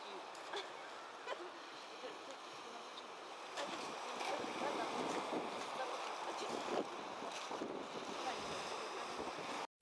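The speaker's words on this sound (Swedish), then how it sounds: "Det är blåsigt idag med stora vågor" Strong wind buffets the microphone while large waves splash and surge around a boat on Lake Baikal, a continuous rough roar with occasional sharper slaps.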